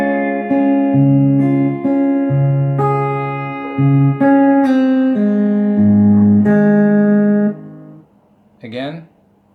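A slide guitar plays the intro bar of a song: a run of sustained, ringing notes and strummed pairs of strings with gliding pitch, loud and close, ending in silence and then a short rising voice-like sound.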